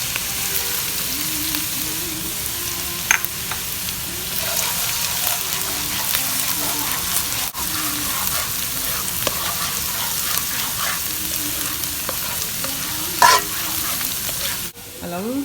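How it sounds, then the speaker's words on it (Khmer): Garlic and finely chopped ginger frying in fat for Hainanese chicken rice, with a steady close sizzle and repeated scrape-and-clatter of stirring throughout, a couple of sharper clinks near the end. "ដាក់ខ្លាញ់ហើយដាក់ខ្ទឹមសហើយយើងខ្ញីដែលយើងបានហាន់ទីទូច ដាក់អំពងវាឲ្យវាឡើងពណ៌ហើយឲ្យវាឈ្ងុយតិចទៅ"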